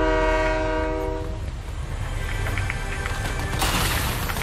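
Train in the video game Fortnite: a loud, steady horn chord sounds for about a second and a half, then gives way to a continuous rumbling, clattering roll of rail cars, close and without talk.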